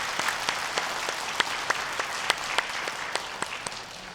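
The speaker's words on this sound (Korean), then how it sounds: "우리 박수로 격려하겠습니다" Applause from a church congregation, a dense patter of clapping from many people with crisp individual claps standing out, steady throughout.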